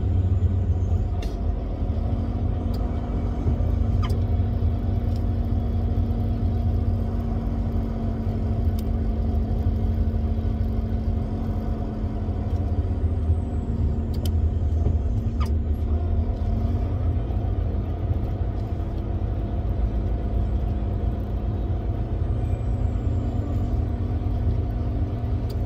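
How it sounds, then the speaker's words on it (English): Heavy trucks roll past a highway brake-check area, a steady low engine and tyre rumble that holds close and loud for the whole stretch, with a sustained drone and faint brief hiss-like ticks above it. "Two trucks that aren't even bothering with the brake check."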